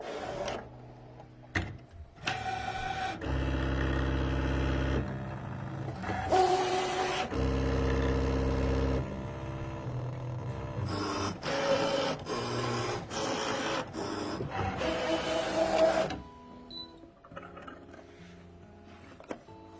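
A Brother ScanNCut SDX1200 cutting machine runs a cut, its motors whirring and buzzing in repeated bursts with mechanical clicks and ratcheting between moves, close and steady with no voices.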